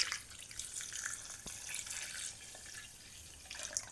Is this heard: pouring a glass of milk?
yes